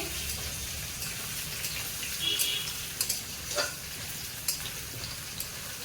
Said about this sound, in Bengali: এদিকে আমার পেঁয়াজ আর আলু তো ভাজা ভাজা হয়ে গিয়েছে